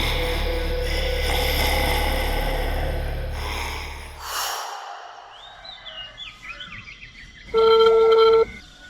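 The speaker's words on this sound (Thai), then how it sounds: "เสียงโทรศัพท์มือถือดังขึ้น" A mobile phone rings in short bursts of steady electronic tone near the end, after a low rumbling drone fades out, with faint bird-like chirps in between.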